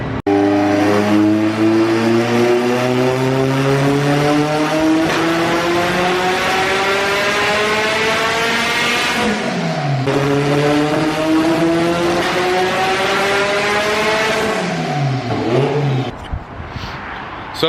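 A 600-horsepower turbocharged Honda Integra GSR engine screams on a dyno, its pitch climbing through long pulls before it abruptly drops out twice as the engine cuts, loud and close.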